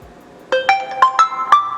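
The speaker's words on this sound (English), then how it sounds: "about to ring phone." A smartwatch's Find My Phone feature sets off a phone ringtone, a quick run of bright electronic tones, clear and close.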